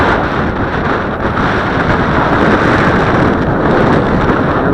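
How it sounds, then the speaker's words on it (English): Strong wind of about 15 knots on a windy day outdoors, roaring steadily and loudly across the microphone as continuous buffeting rumble with no pauses. "Here we are in a 15 knot wind."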